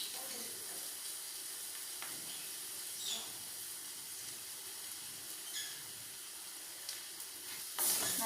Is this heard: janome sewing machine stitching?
no